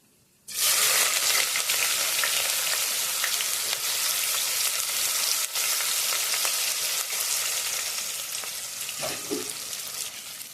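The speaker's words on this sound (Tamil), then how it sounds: "அடுத்து வெங்காயத்தை போட்டுருவோம்" Onions dropped into hot oil for chicken biryani start sizzling loudly at once and keep up a steady, dense frying hiss close by, with a brief stir near the end and no voices.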